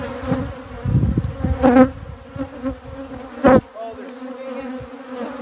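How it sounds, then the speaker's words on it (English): Bees buzz in a steady droning hum, swelling and fading as they fly near, while a person speaks briefly over the sound. "These are nasty bees"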